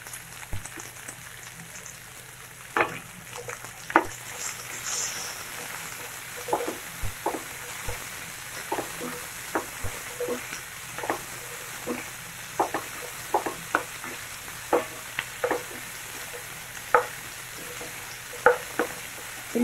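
Cauliflower for spicy gobi manchurian is sautéed in a pan with a soft, steady sizzle, while a utensil scrapes and clinks irregularly as it stirs the pieces.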